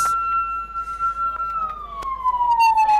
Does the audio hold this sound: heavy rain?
no